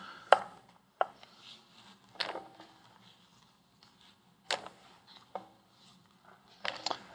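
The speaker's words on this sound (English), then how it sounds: "I'm going to cut zucchini the same way into 1/4 inch slices." A knife slices zucchini into quarter-inch rounds on a cutting board, giving a handful of sharp, close taps spaced irregularly with quiet gaps between them.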